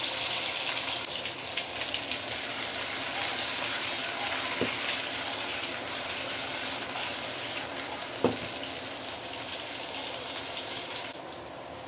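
Potatoes pan frying for a stew give a steady, quiet sizzle throughout, with a couple of faint clicks of stirring against the pan.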